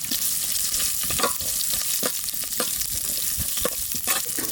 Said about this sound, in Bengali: একটু ঘি দিয়ে দেবো, কটা গোটা জিরে দিয়ে দেবো এর মধ্যে, কটা কাঁচা লঙ্কা,